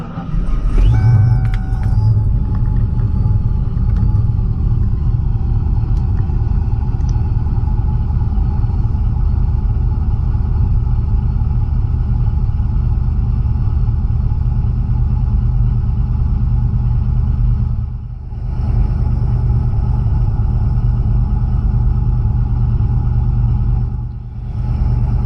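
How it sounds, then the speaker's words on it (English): A boosted 1992 Ford Mustang Foxbody coupe engine cranks and fires, then settles into a loud, steady, deep rumbling idle that runs on for a long stretch with a couple of brief dips, no talking. "Let's go ahead and start this thing up."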